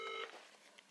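Telephone dialing before a call: a short burst of steady dial tones at the very start, then a faint electronic hiss and a small blip, close and brief.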